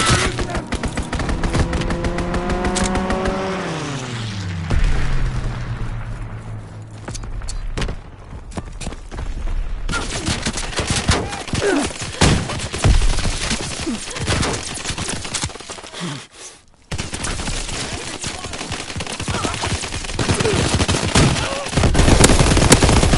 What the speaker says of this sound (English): Enemy strafing run inbound.